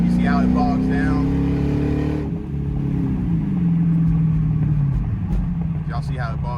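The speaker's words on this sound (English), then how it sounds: "you punch it, you see how it bogs down?" A Dodge Charger Pursuit in automatic drive mode, floored from low speed, holds a loud droning engine note that sags and struggles rather than climbing freely, with a voice talking over it.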